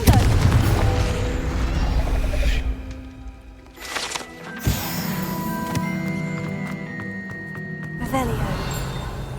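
Confringo fire spell blasts in Hogwarts Legacy, with a sharp booming burst near the middle among steady game music and ambience.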